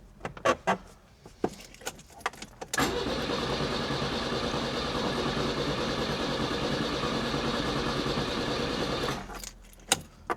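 A Renault 6 engine cranks over and fires, a long steady roar of starter and engine running for several seconds, framed by clicks and key jangles before and after.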